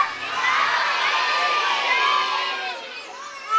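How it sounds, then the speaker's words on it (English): A crowd of children and adults at a zoo seal show yells together in one sustained, loud shout that swells and then fades, without any single voice standing out. "On the count of three, you've all got to yell out, jump Mitchie"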